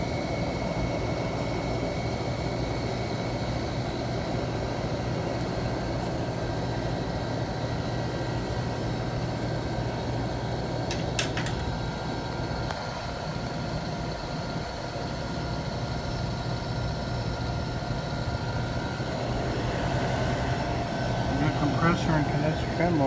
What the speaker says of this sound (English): Compressor and condenser fan blower. I can hear them running.